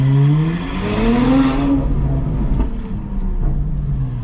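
A Ferrari 812 GTS V12 engine drones steadily while the car is driven, heard from inside the cabin. The engine climbs in pitch and then settles to a lower cruising hum with road noise.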